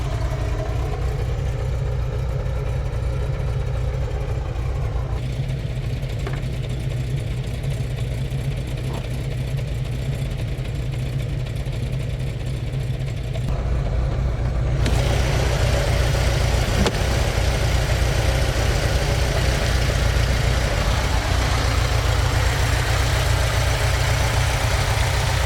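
A 1990 Volkswagen Vanagon Carat engine idles nearby with a low, constant rumble, its tone shifting slightly partway through but never revving.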